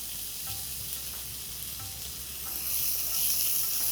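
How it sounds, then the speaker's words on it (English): Fresh garden peas sauteing in a pan make a steady, close sizzle with occasional stirring clicks, and the frying grows slightly louder toward the end, with no voices. "Let's saute this for a while as well."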